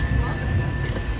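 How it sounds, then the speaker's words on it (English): Walt Disney World Railroad train at Magic Kingdom rumbling past, a loud, steady low roar of rolling wheels with a thin sustained whine above it, heard alone for about a second. "That's not a snake. It's a train."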